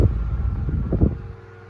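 A Vortice Nordik 30 oscillating desk fan runs on its high speed setting, giving a steady, broad low whoosh of moving air with a faint motor hum, fairly close and continuous.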